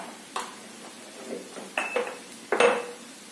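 Carrot vegetable mixture stirred in a pan, with several separate metallic clinks and scrapes of a spoon against the pan, brief and moderately close, spaced irregularly with quiet gaps between.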